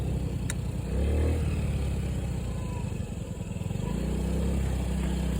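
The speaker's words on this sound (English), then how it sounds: "Riding my little motorcycle. My Black Honda Ruckus moped." Black Honda Ruckus moped engine revving up close, a steady low motor drone that rises in pitch as the throttle opens, with no talking.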